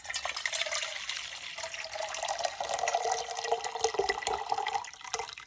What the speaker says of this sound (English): So I'm going to use this pot, which is 1 liter. So I'm going to add hot water,